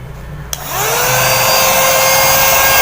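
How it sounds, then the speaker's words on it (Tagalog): A vacuum cleaner used for cleaning dust switches on with a click, its motor spinning up into a loud, steady, high whirring roar close by, with no talking. "Ready na ang ating vacuum."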